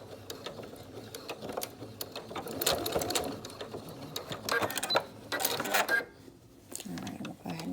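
A sewing machine sewing along the free edge of a 3-D singer's mask to secure elastics in their housing, in bursts of rattling stitching separated by pauses, with clicks and handling noise between.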